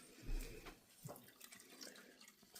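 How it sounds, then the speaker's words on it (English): Water is dumped out of a container after soaking a skein of handspun yarn, giving a short splashing pour followed by faint drips and trickles in a quiet room. "So I'm going to dump out this water."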